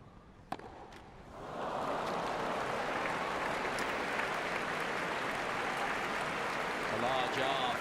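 A Wimbledon crowd at a women's quarter-final tennis match erupts into a sustained roar and applause after a few isolated thuds, the clapping filling the space loudly for several seconds.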